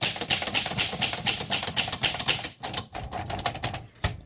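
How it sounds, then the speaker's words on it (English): A 1936 Corona Silent flat top typewriter types in a quick, crisp run of keystrikes, close and clear, pausing briefly before a few final clacks. "This is a 1936. Oh, this type's really nice. Corona Silent."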